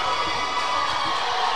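Crowd cheering and shouting in a school gym after an 8th grade boys varsity basketball championship win, a steady dense roar of many voices with young shouts throughout.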